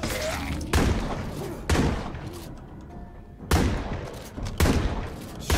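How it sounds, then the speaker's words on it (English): Shotgun blasts in the video game State of Decay 2: four loud, booming shots spaced about a second apart, with a quieter pause between the second and third. "Shotgun."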